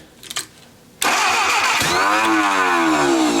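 A junkyard Willys engine cranks briefly, then fires and catches with a sudden loud roar, settling into a steady close running drone with a faint rising whine.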